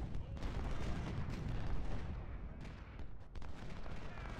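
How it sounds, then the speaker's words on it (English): Rolling artillery and gunfire rumble continuously in a Civil War battle in Ultimate General: Civil War, a dense, steady roar of distant cannon and musketry with no let-up. "Lane is under some artillery fire"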